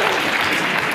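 Audience at a debate on asserting the superiority of Western values breaks into applause, a dense burst of many hands clapping that fills the short moment.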